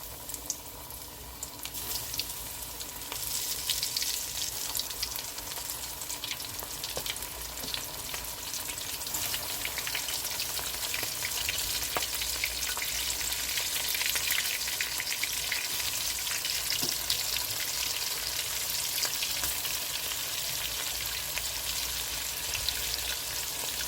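Batter-coated shrimp fry in hot oil with a dense, even sizzle and constant crackle that carries on steadily at close range without any speech over it.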